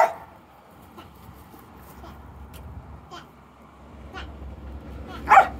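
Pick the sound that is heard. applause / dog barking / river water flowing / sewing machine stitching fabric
dog barking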